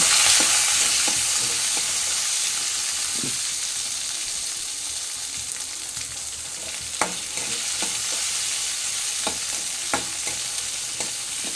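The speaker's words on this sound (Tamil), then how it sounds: "பெரிய வெங்காயம் ஒன்று ரெண்டு பச்சை மிளகு ரெண்டு துண்டு இஞ்சி ஒரு பத்து பல் பூண்டு இதையும் இது கூட சேர்த்து கிண்டணும்" Onion, green chili, ginger and garlic sizzle in a pan for chutney, with a steady frying hiss and occasional sharp scrapes and clacks of a stirring spoon against the pan.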